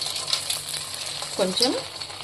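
A test piece of chicken for restaurant-style Chicken 65 dropped into hot oil, a steady close sizzle and crackle with a brief murmur of voice partway through.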